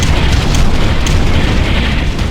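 A bombardment explosion in the real-time strategy game Ground Control gives a dense, sustained, loud booming roar, full of rumble and crackle, with no voices.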